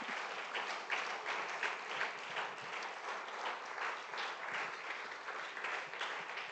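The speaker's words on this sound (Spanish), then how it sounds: "Dale ese fuerte aplauso a Él" A church congregation applauds during a Friday worship service, steady dense clapping from many hands that holds evenly and fairly far off, with no talking over it.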